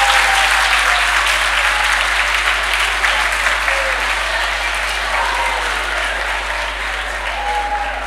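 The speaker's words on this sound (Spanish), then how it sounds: "Disfruto mucho el aplauso" An audience applauds a speaker at a talk; loud, sustained clapping from a sizable crowd runs steadily throughout, with a constant low hum underneath.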